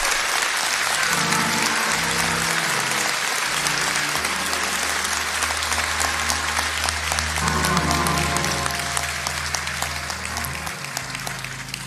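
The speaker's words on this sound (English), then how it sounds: "since y'all stood up and clapped so long" A large audience stands and claps at length, dense sustained applause filling the room from start to finish with a steady roar and no pauses.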